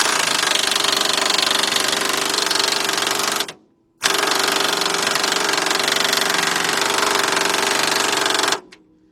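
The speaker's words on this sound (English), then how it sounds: "Get our air gun with our 33mm socket, and we go ahead and tighten that up." A pneumatic air impact gun with a 33mm socket tightens a nut on the steering gear box of a 1977 Buick LeSabre, hammering in two loud, sustained rattling bursts separated by a brief pause.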